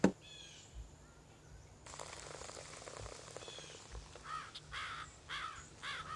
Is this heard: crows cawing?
yes